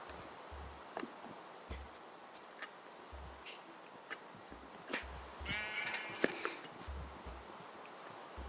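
Minecraft sheep give a few short bleats over footsteps and soft rustling in a farm area of the game, moderately near and with no talking.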